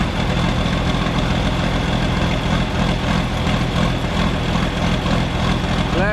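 A John Deere tractor engine idles while warming up at a land-clearing site, a steady, close, low diesel chug with an even rhythmic throb and no talk over it.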